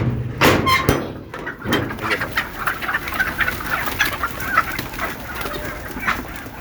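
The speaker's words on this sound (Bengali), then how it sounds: "এখন মুরগিগুলোকে ছাড়বো।" Native village chickens cluck steadily throughout, a loose flock close by with overlapping calls and some rustling as they are let out of their coop, no talking.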